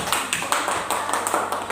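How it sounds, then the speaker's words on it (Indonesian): A class in a Catholic religious education lesson claps hands together in a rhythmic pattern, a series of sharp, evenly spaced bursts close by with no talk. "Tepuk tangan dulu, ya."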